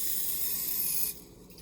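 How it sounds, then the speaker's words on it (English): A steady aerosol spray of cooking spray into a pan hisses for about a second and then cuts off abruptly, leaving a faint hiss. "So I'm just gonna spray a little bit, just a light coating."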